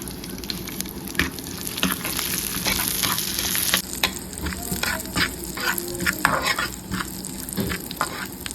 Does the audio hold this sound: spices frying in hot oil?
yes